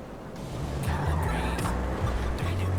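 Car engine noise in the video game Grand Theft Auto 5 revs and shifts in pitch, with tire squeals and skids over a steady background rumble, fairly quiet overall.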